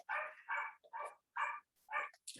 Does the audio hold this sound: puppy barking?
yes